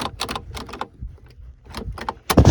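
Door lock mechanism from a VW Golf 5 Plus being worked by hand during a lock replacement, a series of close, sharp mechanical clicks and clacks in quick bursts, ending in a louder latching clunk.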